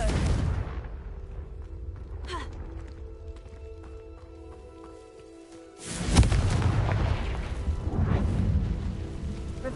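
A Confringo fire spell detonates in Hogwarts Legacy: a sudden loud blast lands partway through, then gives way to a sustained rumbling roar over steady game ambience.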